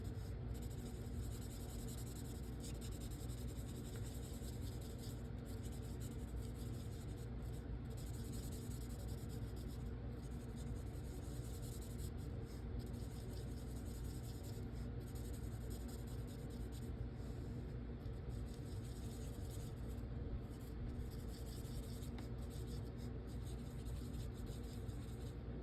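Brush-tip blending marker coloring on paper for a nature-walk themed card, a soft continuous scratchy stroking that runs steadily and quietly throughout, close up with no voices.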